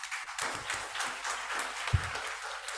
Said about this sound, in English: give her big applause,